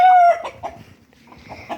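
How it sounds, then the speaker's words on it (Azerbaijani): A rooster close by lets out a loud, clear crow that cuts off quickly, followed by a few soft clucks and low murmuring calls. "Xoruz da budur."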